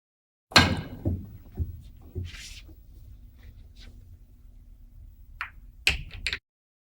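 Pool balls in the Virtual Pool video game: a sharp cue strike followed by several crisp clacks and cushion thuds as the cue ball travels three rails, then a final cluster of clicks as the 9 ball drops.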